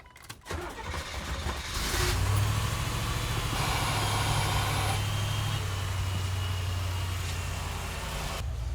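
A Corvette V8 engine cranks and fires, then settles into a steady, loud, close rumbling idle that holds for several seconds before easing slightly at the end.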